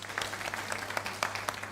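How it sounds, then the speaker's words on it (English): A school audience at an inter-school public speaking competition final gives a speaker a short, steady round of applause, clapping close and continuous without a break. "a round of applause for Angela"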